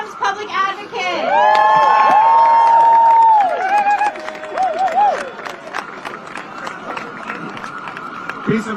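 A crowd at a 24-hour ceasefire vigil and press conference in New York City applauds and cheers loudly for a few seconds, then settles into scattered clapping and chatter while a voice carries over the tail.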